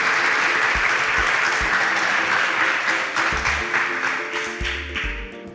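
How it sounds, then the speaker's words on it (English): Audience applause for a contestant on a Nigerian competition show, a steady dense wash of clapping that holds for several seconds and slowly thins toward the end. "A round of applause for Munachi."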